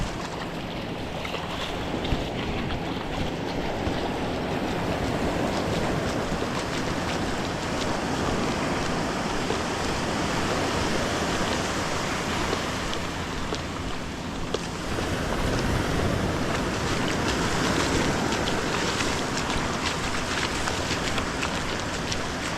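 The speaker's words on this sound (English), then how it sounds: "We got some waves" Ocean waves breaking on a Virginia Beach shoreline at twilight, a continuous roaring wash of surf mixed with wind buffeting the microphone, steady and loud throughout with a surge partway through.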